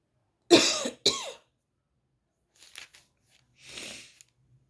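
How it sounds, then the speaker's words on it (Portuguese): Several harsh coughs from one person with a sore, irritated throat, two close loud bursts followed after a pause by softer, rougher coughs and throat clearing, near and without talk. "Tô com um pouquinho de tosse."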